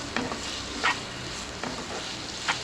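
Four finely chopped onions sautéing over a medium-high flame, giving a continuous soft sizzle with a few brief spatula scrapes and stirs.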